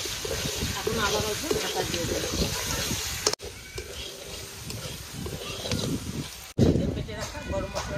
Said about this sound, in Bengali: জলটা ঢেলে দিলাম।